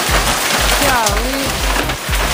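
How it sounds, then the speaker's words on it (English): Heavy hail storm pounding parked cars, a dense, loud clatter of impacts with sharp repeated thuds and a rising tonal whine partway through, with a voice audible briefly. "We're in the middle of a huge storm right now, and it is hailing like no other."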